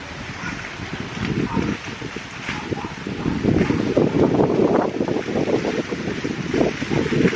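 Steady strong wind buffets the microphone with low rumbling gusts throughout, loud and continuous, with no clear voices.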